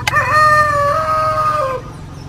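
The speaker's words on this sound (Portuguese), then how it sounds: "Tem até galo cantando" A rooster in a backyard in Pará crows once, loud and close, in a long drawn-out call that fades at the end with no voices around it.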